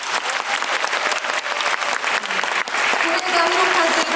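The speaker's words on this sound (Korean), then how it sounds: "여러분들 큰 박수 부탁드리겠습니다" Loud, sustained applause from a large audience at a Busan International Film Festival screening Q&A, dense and steady throughout, with some voices and cheering mixed in underneath.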